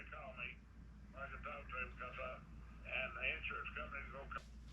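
A mobile phone rings with an incoming call, its tonal ringtone repeating in short melodic bursts at moderate volume against a quiet room.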